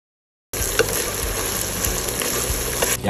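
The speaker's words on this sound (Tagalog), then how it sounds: "yung igigisa mo siya hanggang mag-release siya ng sarili niyang mantika" Beef innards for papaitan sauté in their own released fat, giving a loud, steady sizzle with faint scraping from stirring.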